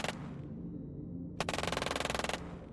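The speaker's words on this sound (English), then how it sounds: "We're definitely taking gunfire." Rapid bursts of automatic gunfire in the strategy video game Shadow Empire crackle over a steady mechanical rumble, with a brief single shot before a sustained rattling volley near the end.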